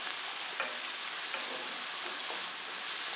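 Farfalle pasta sizzles softly in a frying pan while being stirred, with faint scraping and clicking of the utensil over a steady low hiss, close but quiet.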